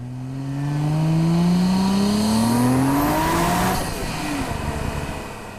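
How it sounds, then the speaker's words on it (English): A Nissan RB-engined 90s Japanese sports car arriving at an evening car meet, its engine revving up and climbing in pitch as it passes close and loud, then fading as it moves on. "the RB sounds good"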